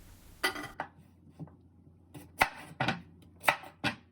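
A kitchen knife chops through raw sweet potatoes on a cutting board in a series of sharp, close knocks, irregularly spaced with short pauses, loud and clear with no talking.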